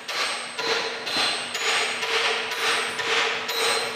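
Dead blow hammer tapping a bearing into the apron of a Monarch 16-inch lathe during restoration, eight evenly spaced, loud, ringing metallic blows at a steady rhythm, close up with no talk.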